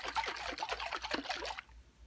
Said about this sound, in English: then I pour it from the jar into my coffee